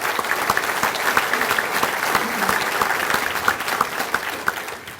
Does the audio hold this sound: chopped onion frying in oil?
no